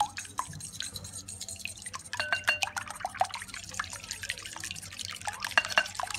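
Pancake batter with vanilla essence being mixed in a bowl, giving a wet, sloppy patter of irregular clicks and drips that thickens in quicker bursts partway through, with no voices.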